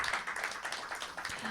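Faint applause from an open mic poetry night crowd, a soft continuous wash of clapping that lasts briefly.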